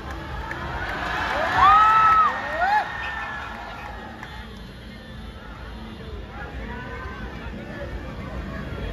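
A large crowd at a live film-star appearance in Madhyamgram cheers and shouts, swelling with a sharp whistle early on, then settling into a lower murmur of voices and noise.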